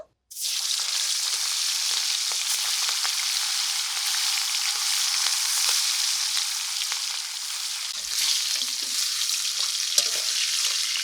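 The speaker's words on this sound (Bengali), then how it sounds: "এক এক করে এবার ইলিশ মাছগুলোকে ভেজে নেব" Hilsa fish sizzling in hot mustard oil in a pan, a steady loud crackling fry that runs without a break for the whole stretch, with no talking.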